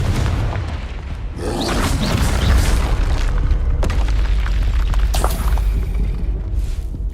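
The Confringo fire spell in Hogwarts Legacy goes off in loud booming blasts, several explosive bursts over a rumbling, crackling game background.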